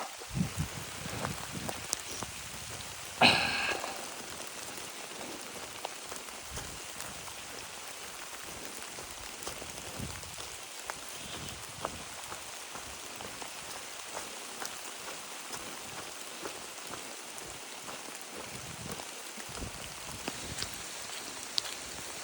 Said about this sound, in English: It has become a pouring down rain now.